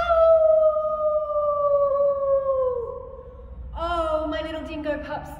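Several people's voices imitate a dingo howl, giving one long, sliding howl that falls away, then a second ragged group howl with overlapping voices.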